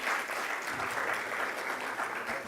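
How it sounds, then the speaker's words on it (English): Round of applause from a conference audience in Dubai, even and continuous clapping at moderate distance, fairly quiet and without talk. "Could we have a round of applause, actually, for all the sessions so far this morning that have been amazing."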